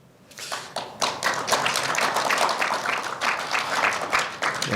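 Audience applause breaks out at the Kwanhun Club debate for a Liberty Korea Party Seoul mayoral candidate, a dense burst of many hands clapping close and loud, sustained for several seconds with no talk over it.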